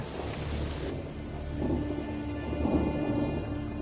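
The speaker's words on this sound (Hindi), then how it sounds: "काकाडू के तूफानों की गिनती दुनिया के सबसे बड़े तूफानों में होती है।" Thunder rumbles low and long in a Kakadu storm over steady rain on the ground, the whole scene loud and continuous with no voices.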